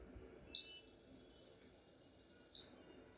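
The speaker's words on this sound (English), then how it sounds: "now the buzzer will start making noise" A high, steady electronic buzzer on anti-sleep glasses sounds for about two seconds, loud and unwavering, then cuts off, leaving quiet background.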